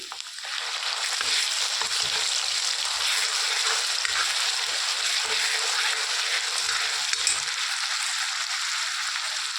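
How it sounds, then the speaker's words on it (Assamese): Duck frying in hot oil with a paste of ginger, garlic, onion and chili, producing a loud, continuous sizzle that starts suddenly and holds steady with faint stirring underneath. "তেল গৰম হৈছে পূৰা। বহাই দিওঁ এতিয়া"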